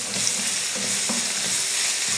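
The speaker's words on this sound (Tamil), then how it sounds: "வெங்காயம் பார்த்திங்கன்னா நல்லா இந்த மாதிரி வதங்கட்டும்" Finely chopped onion sautés in hot oil with curry leaves, dried red chillies and asafoetida, a continuous close sizzle broken by several soft, evenly spaced stirring scrapes.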